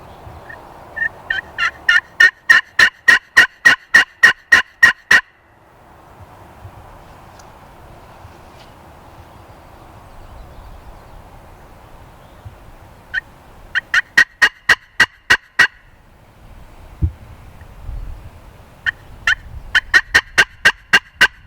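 A wild turkey gobbles loudly and close in the fields, in rapid rattling bursts, then repeats them after quiet stretches of faint wind, with no talk.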